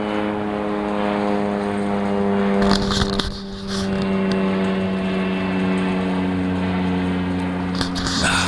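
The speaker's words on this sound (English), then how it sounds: "Reptilian flyover. That's actually a kind of cool kit plane." A fixed-wheel kit plane passes overhead, its propeller engine droning steadily with strong harmonic hum that swells briefly mid-pass, loud and close throughout, no talking.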